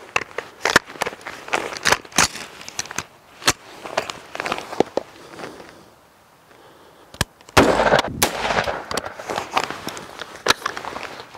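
Rifle shots with duty .223 ammunition striking a rifle-rated bulletproof vest at an outdoor range: many sharp, loud cracks at irregular intervals, several close together, with a brief quiet gap midway and handling noises between.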